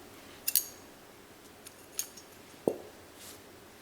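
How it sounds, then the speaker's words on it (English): Scissors snip through yarn during a crochet beanie project, a few quiet, brief cuts close by, with one sharper click near the end in an otherwise still room. "then I'll cut this yarn."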